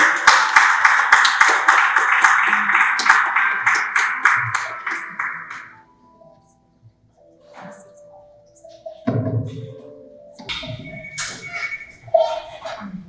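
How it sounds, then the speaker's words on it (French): Audience applause at a formal televised special event, a dense burst of clapping that holds strongly for about five seconds, then fades out and gives way to scattered taps and room noise. "sous vos applaudissements, s'il vous plaît."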